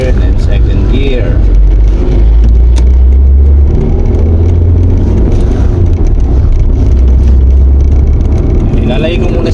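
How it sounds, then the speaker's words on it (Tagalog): A manual transmission car accelerates through first and second gear, giving a loud, close engine rumble that rises and drops as the gears change, with a person talking over it. "Okay, first gear, okay, first gear, then second gear."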